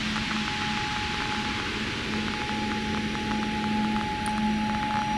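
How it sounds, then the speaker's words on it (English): Steady broadband white noise produced in Ableton Live 11, a constant hiss running alone at even loudness, with a faint low hum tone and a thin high pitched line beneath it. "White noise just plays, like it's its own thing."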